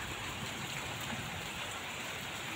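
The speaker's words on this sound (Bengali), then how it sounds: "ফোঁটা ফোঁটা বৃষ্টি পড়ছে দেখো।" Rain falls steadily outside, a soft even patter and hiss with no voices, fairly quiet and distant.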